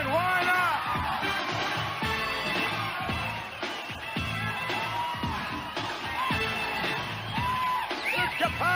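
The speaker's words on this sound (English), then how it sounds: "The capacity crowd enjoying Aaron Baker, a tireless maestro." A capacity crowd at a bodybuilding show cheers and yells steadily throughout, with whoops and shouts rising over a continuous roar of voices while music plays in the hall.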